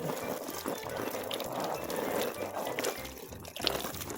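Water splashes and trickles into plant pots while watering freshly divided whale fin plants, a continuous close pouring and gurgling with small irregular drips throughout.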